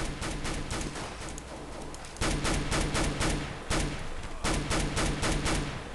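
Dense, loud rifle fire from a Counter-Strike: Global Offensive match replay rattles in fast repeated bursts, with short lulls between volleys.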